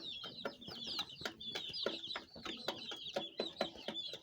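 A crowd of chicks peeping nonstop, shrill high chirps overlapping with a few lower clucks mixed in, close by.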